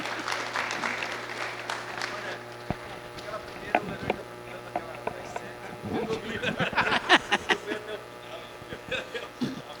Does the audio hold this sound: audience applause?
yes